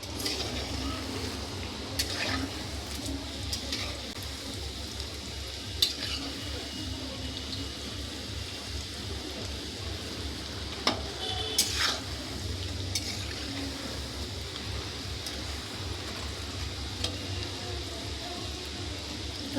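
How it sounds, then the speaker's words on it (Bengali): Egg chilli frying in a pan until reddish, a soft continuous sizzle with occasional stirring and clinks of a utensil against the pan, fairly faint. "লাল লাল করে ভেজে নেব আমি"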